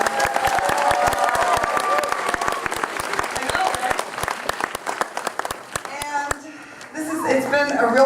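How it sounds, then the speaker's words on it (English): Audience applause and cheers for children after a school performance: loud, dense clapping with whoops, easing off near the end as a voice starts speaking. "Give them another round of applause."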